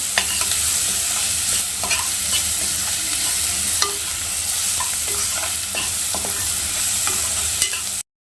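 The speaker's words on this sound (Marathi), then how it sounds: "त्यामध्ये कांदा टाकून घेऊया तो पण चांगला आपण तेलामध्ये परतून घेऊया मसाल्याबरोबर" Onion frying in oil with spices in a pan, a loud continuous sizzle close up with frequent stirring and scraping strokes throughout, no talking.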